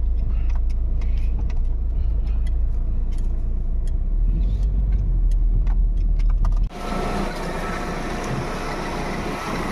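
A Ford Escape with an overheating problem idles steadily, a continuous low engine rumble that shifts abruptly to a broader, hissier running noise near the end, no one talking.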